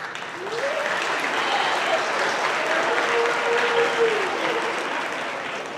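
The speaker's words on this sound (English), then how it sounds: "thank you for the applause" Applause from an audience of students at a sixth-grade school awards ceremony, a steady sustained wash of clapping lasting several seconds at even loudness, with a faint voice or tone rising briefly over it.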